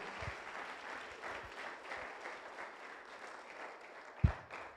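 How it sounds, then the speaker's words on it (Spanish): A church congregation applauds during a Spanish-language Easter sermon, a continuous moderate wash of clapping with a few low thumps and one sharp knock near the end. "ayúdame dándole un fuerte aplauso al Señor esta mañana"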